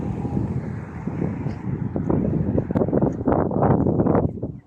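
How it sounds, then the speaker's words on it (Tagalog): Steady rumbling wind buffets the microphone throughout, with low gusty roar swelling toward the end; no clear voices. "Simoy ng hangin maganda. Magandang simoy ng hangin."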